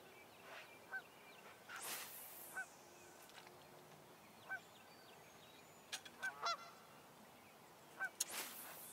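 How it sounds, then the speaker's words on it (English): Several loud goose honks ring out at irregular intervals against a quiet outdoor background, some single and some in quick clusters. "Hey, shut up, you dag-blasted goose."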